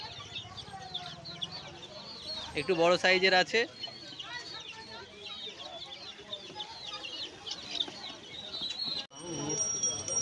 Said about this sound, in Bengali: বন্ধুরা দেখুন, এখানে তিতির মুরগি রয়েছে, এই মুরগিগুলো 1200 টাকা জোড়া।